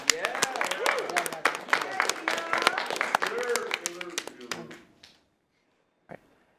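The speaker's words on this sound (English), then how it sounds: "Can I get a round of applause?" A crowd of contestants claps and cheers after a game round, dense applause with excited voices, close and loud, then fading out and ending in near silence with one brief final sound.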